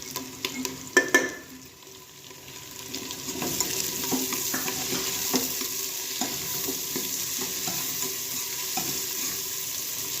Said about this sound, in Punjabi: ਤੇ ਹੁਣ ਅਸੀਂ ਟਮਾਟਰ ਔਰ ਮਿਰਚਾਂ ਪਾ ਦਾਂਗੇ